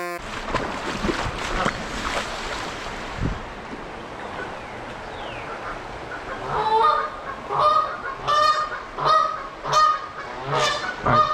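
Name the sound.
geese honking at their nest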